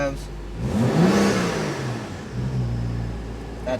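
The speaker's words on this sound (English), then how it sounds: "Let's give it some revs." A BMW 435i F32 fitted with a Dinan intake revs up, the engine climbing in pitch then easing back and holding a raised idle, close and moderately loud, with some speech around it.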